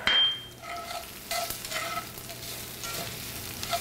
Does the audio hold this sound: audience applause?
no